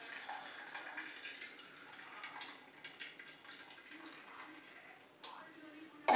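Water being poured off boiled onions in a home kitchen, a thin, quiet trickle and splash with a few soft clinks of a vessel, ending in a sharp knock.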